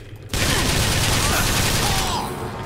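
Gunfire in Bioshock Infinite: Burial at Sea, a sudden loud, dense volley of rapid shots that starts abruptly and roars on continuously close up before easing slightly.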